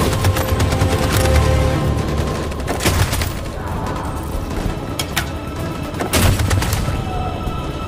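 Rapid bursts of gunfire in Detroit: Become Human, with sharp repeated shots clustered in volleys over a steady background din, loud and near.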